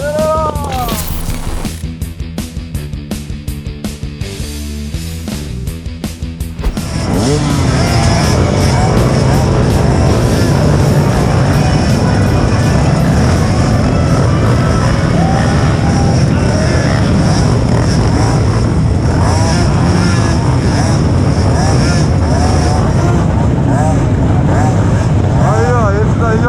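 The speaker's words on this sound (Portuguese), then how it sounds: "Ali as motinhas já estão prontas." Several trail motorcycles rev and idle together at the start line of a rainy hillside dirt bike race, a dense continuous engine roar that swells loudly after a quieter opening with sharper revving bursts.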